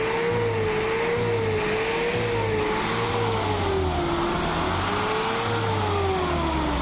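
A 2016 car's engine running steadily with a low, continuous hum and a slight rise and fall in pitch, close and fairly loud throughout, with no one talking.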